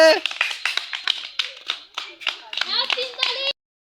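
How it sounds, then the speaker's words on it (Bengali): Children clap hands together in a quick scattered burst lasting a few seconds, with their voices mixed in the applause, close and fairly loud before it cuts to silence. "সবাই একটা হাততালি দেওয়া হবে"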